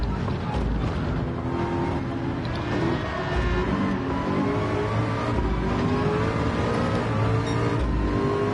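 A race car engine drones at high revs in a VR 24 Hours of Le Mans racing game, a loud continuous whine with slowly shifting pitch that never lets up.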